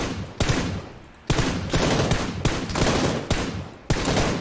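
Gunfire in a shooter game: loud, sharp bursts of shots repeat every second or so, each burst followed by a dense spray of rapid fire, with no talking over it.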